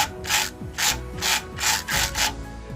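Ratchet wrench loosening the idler pulley bolt on a Thermo King reefer engine: five rhythmic bursts of rapid clicking, each about half a second long, close and clear with no talk.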